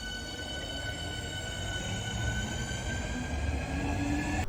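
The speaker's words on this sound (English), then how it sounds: "First of all, both networkers in this video are BREL ones. Secondly, they have Hitachi equipment." A BREL-built Networker electric multiple unit with Hitachi traction equipment runs steadily, its sustained motor whine holding several steady tones over a low rolling rumble, loud and close with no voices.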